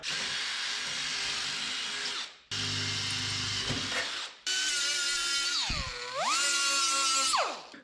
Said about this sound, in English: I'm gonna drill these out.